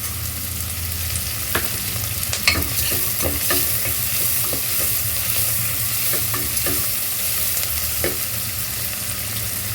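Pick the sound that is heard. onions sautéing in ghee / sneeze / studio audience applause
onions sautéing in ghee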